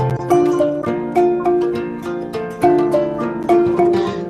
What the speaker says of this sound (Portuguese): esse som que vocês estão ouvindo é do próprio balafon